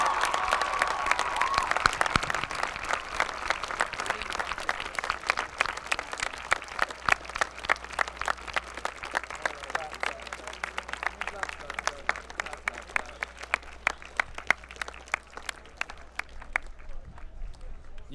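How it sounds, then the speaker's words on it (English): A large crowd applauds steadily for a long stretch at a high school graduation ceremony, dense clapping filling the room and slowly thinning toward the end. "please stand and show your appreciation by applauding your families"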